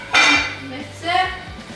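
Onions stirred into a pot for et sote, with two short bursts of scraping and clinking from a utensil against the pot, close and fairly loud.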